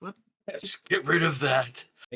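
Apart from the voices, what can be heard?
No everyday noises stand out.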